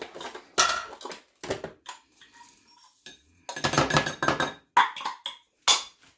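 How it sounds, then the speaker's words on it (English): Food tipped into a bowl while preparing a cauliflower au gratin, giving several separate clinks and clatters of utensil and dishware at close range, with a few quieter rustles between the louder hits. "Dump this into a bowl."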